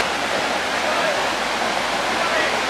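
Daringbadi waterfall roars as a loud, continuous broadband rush of falling water, steady and close with no gaps.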